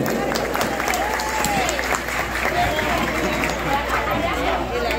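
Crowd applause at an outdoor speech event celebrating Lago do Junco's 30th anniversary, a broad continuous roar of clapping mixed with cheering voices and a brief whistle-like tone, steady and fairly loud throughout.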